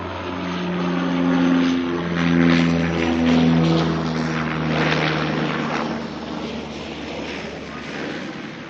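A Dash 8 turboprop arrives at Auckland Airport from Napier, its propeller drone carrying a steady low hum and layered tones that swell and ease as it passes fairly close.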